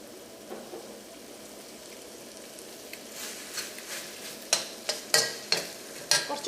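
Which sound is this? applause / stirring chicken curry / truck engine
stirring chicken curry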